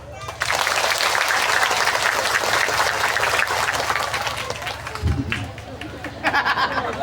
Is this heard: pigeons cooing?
no